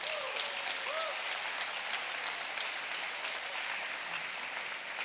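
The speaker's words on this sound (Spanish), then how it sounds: "Dale un aplauso al Señor." A church congregation applauds during a Spanish-language sermon, steady dense clapping that fills the room evenly and holds at a constant level throughout, with a few faint voices mixed into the crowd noise.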